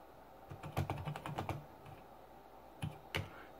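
Keys typed on a Tandy TRS-80 Model 100 portable computer with a grimy keyboard that needs cleaning: a quick run of soft clicks, a pause, then a few more isolated presses, close and quiet.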